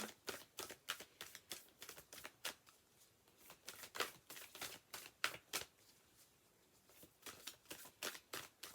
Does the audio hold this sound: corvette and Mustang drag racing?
no